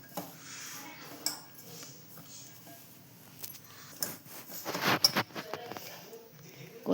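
A spoon scrapes and clinks against a bowl while snack batter with a pinch of baking soda is mixed, giving irregular close knocks and rattles that grow busier midway, with a voice talking faintly underneath.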